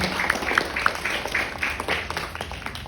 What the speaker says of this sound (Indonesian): Tepuk tangan untuk Malang Raya, ya.